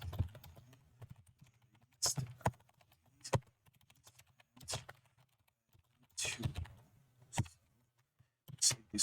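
Computer keyboard typing while a new Markdown file is written, coming in quick clustered bursts of clicks separated by short pauses, fairly close, over a low steady hum.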